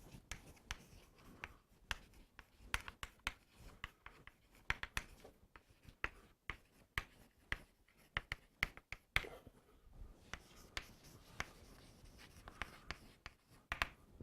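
Steady scratching and tapping of a pen or marker writing out a matrix equation for a math lesson on eigenvalues and differential equations, a dense run of close, crisp strokes with no talking.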